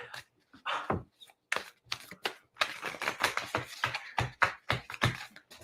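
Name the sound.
shuffling tarot cards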